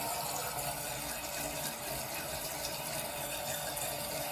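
A Kohler Cavata toilet tank refills after a flush, rated 1.6 gallons per flush, giving a steady, loud broadband rush and hiss of water that holds without a break from start to finish.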